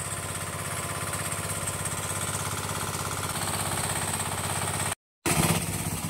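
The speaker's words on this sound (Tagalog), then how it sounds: "Bali 24 hours na umaandar yung makina nilang yun." Engine-driven water pumps run nonstop to drain floodwater in San Luis, Pampanga, making a steady, loud mechanical chugging that carries on with no talk and cuts out for a brief moment near the end.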